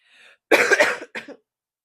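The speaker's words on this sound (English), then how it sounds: "I hate coughing like this." A couple of sharp, close coughs in quick succession, preceded by a faint breathy sound, then silence.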